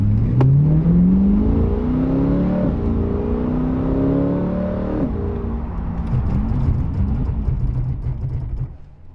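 C8 Corvette driving hard during a brake pad bed-in run with upgraded Hawk Performance pads: loud engine revs rising and falling through repeated acceleration and braking, with steady road and wind roar underneath.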